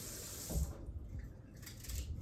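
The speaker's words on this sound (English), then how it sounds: "Let's wash the knife." Tap water runs steadily into a kitchen sink while a knife is rinsed during lunch preparation after cutting kale, a continuous close splashing stream with small surges and no talking.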